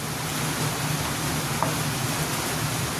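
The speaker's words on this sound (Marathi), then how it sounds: "पाऊस बाहेर अगदी जोरात पाऊस पडतोय" Steady, dense hiss of heavy rain pouring down continuously, even and unbroken throughout, with no voices.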